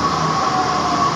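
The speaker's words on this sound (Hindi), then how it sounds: "ये देखिए दिल्ली की मेट्रो कितनी शानदार है" A Delhi Metro train hums at a station platform, with a steady mechanical drone and a faint high whine throughout, no speech.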